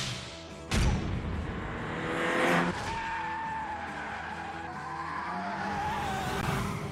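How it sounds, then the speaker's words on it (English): A Ford Sierra RS Cosworth in The Grand Tour Game skids and squeals its tires, with a sharp impact early on and a sustained engine whine rising under the screech. "No way that we're driving the Ford Sierra RS 500."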